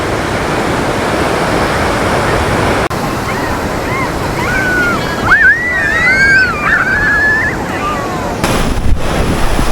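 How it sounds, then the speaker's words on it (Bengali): Big ocean waves rolling onto Puri beach, a continuous broadband roar of surf with wind buffeting the microphone, and a brief whistling or squealing sound partway through. "ঢেউগুলো এখন বেশ বড় বড় আসছে,"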